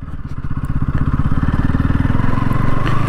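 A motorbike rides along a muddy, rough village road, its engine thumping in a steady, rapid putter that stays loud and close throughout, with rattles and knocks from the bumpy ground.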